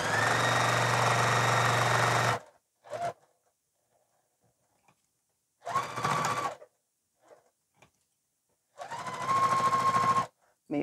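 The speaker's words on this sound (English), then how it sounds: "I'm going to stitch 1/8 of an inch away from that, all the way around again." A sewing machine stitches an eighth of an inch in from a fabric edge, running around the piece in three loud, close bursts of rapid mechanical whirring separated by pauses.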